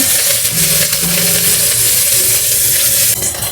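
Garlic hitting hot oil in a pan sets off a loud, continuous hiss that stays up close and dense throughout, with faint scraping under the sizzle.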